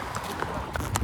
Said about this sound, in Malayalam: ഇവനാണ് എന്റെ കുതിര